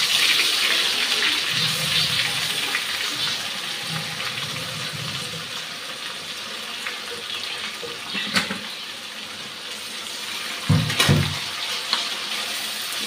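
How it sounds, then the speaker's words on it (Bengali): Water runs steadily into a pan of onion and green chilli paste for a fish curry, a broad close rush with a couple of knocks near the end. "একটু জল দিয়ে দিলাম"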